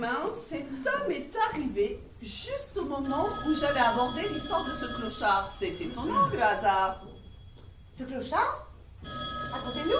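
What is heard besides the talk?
telephone ringing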